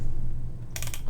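Brief burst of computer keyboard typing, a quick cluster of close key clicks over a low steady hum.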